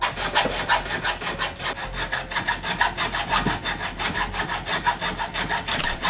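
Steady back-and-forth rasping of a hand saw cutting through a sailboat fitting, strokes evenly rhythmic and close, continuing throughout with no talking.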